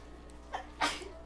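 A single sharp sneeze bursts out nearby, preceded by a short breathy intake, with no talking in the clip.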